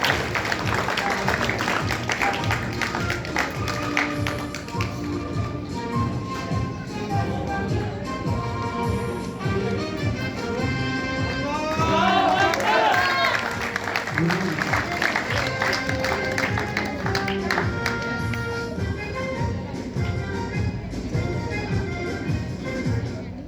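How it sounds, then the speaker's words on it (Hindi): A school audience applauds a prize-winning girl at a results ceremony, steady clapping of moderate loudness that runs on at length, mixed with crowd murmur and some background sound. "इस बच्ची के लिए जोरदार तालियां।"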